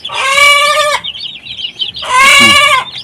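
Hens clucking loudly in two bursts of harmonic, squawking calls separated by a short quieter gap, one hen noisy before laying eggs among Shamo chickens, with faint background chatter.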